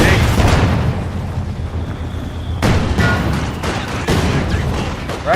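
Mortar fire explosions in a Company of Heroes 2 multiplayer battle, several heavy booms in irregular succession over dense battlefield noise, loud and close.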